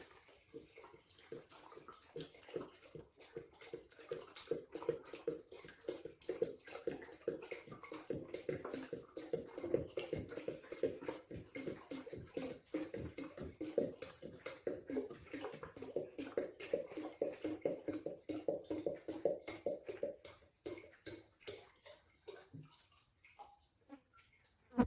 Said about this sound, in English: I'm going to dump this 2 liters in here.